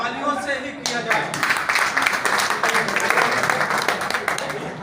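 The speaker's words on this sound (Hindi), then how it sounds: "क्यों ना उनका सम्मान तालियों से ही किया जाए" A crowd at a Yadav Mahasabha gathering breaks into sustained applause, dense clapping rising after a moment and carrying on steadily, with a voice speaking at the start.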